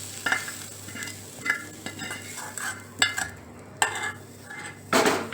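A spoon stirring spiced masala into soaked semolina and yogurt batter for masala appe, giving repeated wet scraping and clinking strokes against a bowl at a steady rhythm, close and moderately loud with faint background hum.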